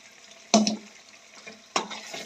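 Fresh spinach dropped into a pan of frying spice paste for palak paneer, giving two clattering bursts of sizzle and stirring over a quiet background hiss, with no talking.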